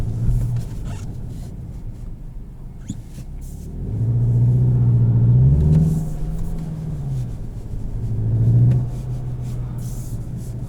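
A 2021 Volkswagen Jetta GLI in manual mode accelerating, its engine rising in pitch through two strong revving pulls with a gear change between them, over a steady road rumble inside the cabin.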